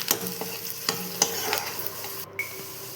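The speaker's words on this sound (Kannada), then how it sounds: "ರುಚಿಗೆ ಬೇಕಾದಷ್ಟು ಉಪ್ಪು ಹಾಕಿ ಅದನ್ನು ಮಿಕ್ಸ್ ಮಾಡಿಕೊಳ್ಳಿ" A spoon scrapes and taps around a pan in a steady stirring rhythm over a soft background sizzle of frying, as salt is mixed into a tempering.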